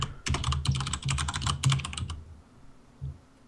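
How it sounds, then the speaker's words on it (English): Rapid computer keyboard typing during a game development podcast, dense clattering keystrokes for about two seconds, then trailing off to a few isolated taps, close and clear with no talk. "Mind typing the game into the chat?"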